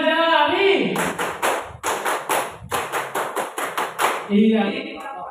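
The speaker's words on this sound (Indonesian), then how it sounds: "Tepuk lima jari." Schoolchildren in an elementary classroom clap in unison during a counting clap game, about a dozen sharp, evenly spaced claps in a quick run, with voices chanting before and after.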